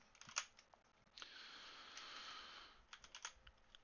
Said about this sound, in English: I think you can hear my keyboard there